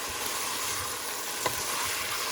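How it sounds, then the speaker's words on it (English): Meat simmers and sizzles in a soup pot with a steady close hiss, broken by one brief scrape of a stirring utensil, no voices. "So now I'm gonna go ahead and stir a little bit."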